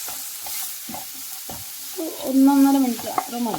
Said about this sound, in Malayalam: ഇതിങ്ങനെ ഇളക്കി കൊടുക്കുക